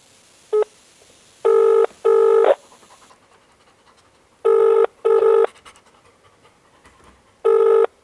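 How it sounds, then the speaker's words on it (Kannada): A telephone on a prank call: a short dialing beep, then the repeating double-burst ringback tone, loud and clear, with no talking. "ನೋಡೋಣ ಈ ಫ್ಯಾನಿಗೆ ಫೋನ್ ಹೊಡೆಯೋಣ"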